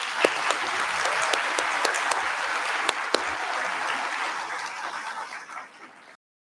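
Audience at the 2021 Broken Arrow State of the City address gives the city manager a sustained round of applause, with a few sharp claps standing out before it fades away.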